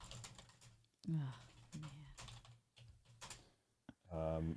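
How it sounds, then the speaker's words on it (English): Hard, fast typing on a computer keyboard, a busy run of sharp clicks mixed with bursts of music and voices in the background. "Listen to all this clickety clackety on that keyboard."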